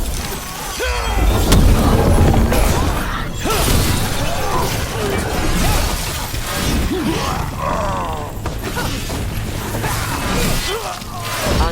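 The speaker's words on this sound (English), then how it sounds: "They've got mortars!" Mortar fire in a Dragon Age: The Veilguard battle: continuous loud, dense combat noise with repeated crashing impacts, booms and clanking over nearly twelve seconds, with no clear gaps of quiet.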